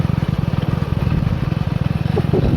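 A motorcycle being ridden on a rough rural road, its engine putting out a steady pulsing low throb with some clatter, close and continuous.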